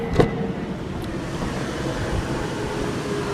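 A Toyota Sienna XLE minivan sits idling with its engine running, a steady low rumble heard up close that stays even throughout, with one faint click near the start.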